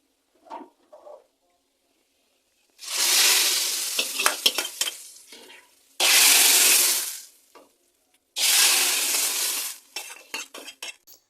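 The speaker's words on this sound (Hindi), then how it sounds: "ये देखिए घी का छौंक लग चुका है" Loud bursts of hot ghee sizzling in a pan during tempering for palak paneer, three long hissing surges separated by clattering utensil taps and brief quiet gaps.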